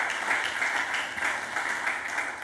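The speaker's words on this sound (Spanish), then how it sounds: "Dale una ofrenda de palmas al Dios de la gloria." A church congregation claps together in steady, dense applause, a continuous bright wash of hand claps at even loudness for a couple of seconds with no voices standing out.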